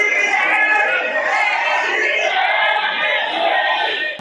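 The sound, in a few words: crowd of political supporters chanting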